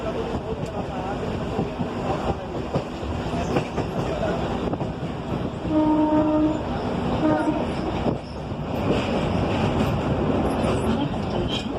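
A suburban train runs between Mumbra and Kanjur Marg, with a steady, loud rumble and rail clatter throughout and a faint tonal hum in the middle. Indistinct voices sit low in the carriage noise.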